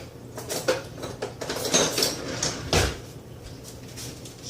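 Utensils clink and rattle as a stir spoon is fetched from among cutlery and dishes, a run of short nearby metallic clatters and knocks with one louder clack near the end, no voices.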